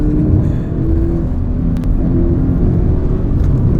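Toyota GT86 sports car under way on a hill climb, its engine, transmission and exhaust blending into a steady, loud low-pitched rumble and drone that holds constant throughout with no talking.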